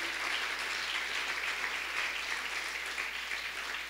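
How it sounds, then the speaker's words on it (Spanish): Congregation applauding during a church service at a Christian church in El Salvador, a sustained even wash of many hands clapping with no talk over it. "Le pueden dar un aplauso al Señor"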